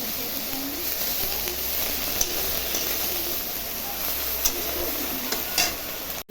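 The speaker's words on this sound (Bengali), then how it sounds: "তেজপাতা, কালো জিরা সম্বারা দিলাম, কচু শাকটা দিয়ে দিলাম" Taro leaves tossed into hot oil in a pan with bay leaf and nigella seeds give a steady, close sizzle throughout, with a few brief clinks and scrapes rising over it.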